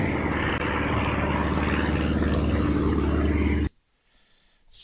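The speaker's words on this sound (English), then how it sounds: "You can hear the plane noise." A propeller airplane flying alongside to film drones loudly and steadily, its engine roar filling the first few seconds before dropping sharply to near silence.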